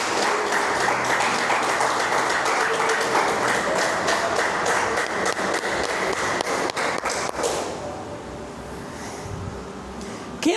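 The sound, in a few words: church congregation applauding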